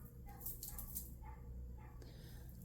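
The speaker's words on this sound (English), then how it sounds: "we have a dog outside that is acting like my dog acts sometimes" A dog outdoors barks and yips several times, somewhat distant, over a steady background hum indoors with no talking.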